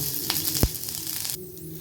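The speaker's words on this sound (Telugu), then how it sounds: "ఇదిగో చూసారా వేయిస్తున్నాను" Brief hiss of something frying in a pan over a low hum, with a sharp clunk near the start; the sizzle fades toward the end.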